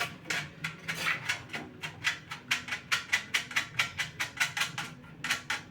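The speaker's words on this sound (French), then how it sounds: "On va dévisser ça." Parts of an electric hotplate being unscrewed, heard as a fast, steady run of close, rhythmic ratcheting clicks that continue throughout with no talking.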